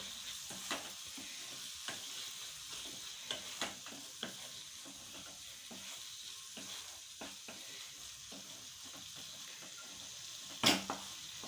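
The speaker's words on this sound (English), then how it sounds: "we will give it a nice stir" Spicy Indian masala pasta with red chili powder sizzles quietly in a pan while a spoon stirs it, adding light scattered taps and scrapes over a soft frying hiss, with one sharper clatter near the end.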